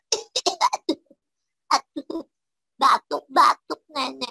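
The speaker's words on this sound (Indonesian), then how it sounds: "Batuk, Nenek" An elderly woman coughs several times in short bursts, with a few spoken words in Indonesian mixed in between the coughs.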